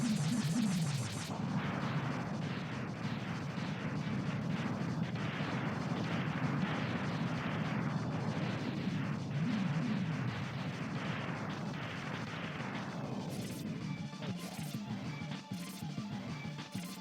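Rapid-fire blaster shots in Mega Man X, a dense, fast stream of repeated bursts running for most of the stretch before thinning out, with a few sharp chimes near the end.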